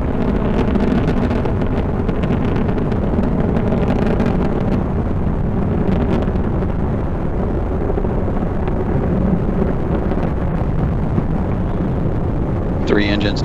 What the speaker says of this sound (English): Three engines now throttling down as Endeavor passes through the area of maximum dynamic pressure on the vehicle in the lower atmosphere